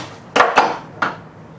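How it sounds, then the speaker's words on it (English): A hammer bangs on a cymbidium orchid pot, three sharp knocks: two close together, then a third after a short pause, each clear and near with no talking. "bang on the pot, bang on the pot."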